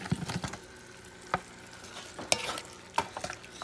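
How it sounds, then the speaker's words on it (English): Beef neck bones sizzle in a hot pot while a spoon stirs them, with a steady fry and a few sharp scraping clinks against the metal, close and clear. "I like to add the meat so the flavors start mixing with it"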